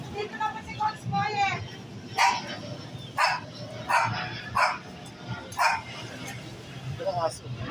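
A dog barks repeatedly in short, sharp bursts, close by, with some whimpering between barks and people talking quietly in the background.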